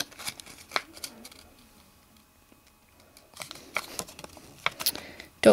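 An empty note card folded in half, with papery rustles and handling clicks in two bursts separated by a quiet stretch, close and moderately loud with no talking.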